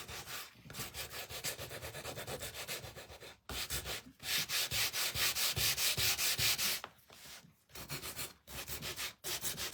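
A wooden snowman hat craft piece is sanded by hand in long rhythmic strokes, loud and close, pausing briefly a few times before the rasping resumes.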